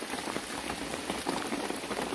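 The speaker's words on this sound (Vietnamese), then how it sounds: "trời mưa rất là to" Heavy rain falls outdoors during a solo bushcraft foraging trip, a dense, steady patter of drops hitting surfaces that is close and loud and continues throughout with no speech.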